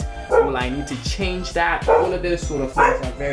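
Dog barking in short repeated bursts across the whole stretch, mixed closely with someone talking over it indoors.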